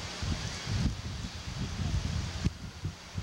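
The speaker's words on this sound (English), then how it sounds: "A lot of wind out here right now." Wind blowing outdoors, a steady hiss with low rumbling buffets against the microphone, faint to moderate and continuous with a couple of sharper gusts.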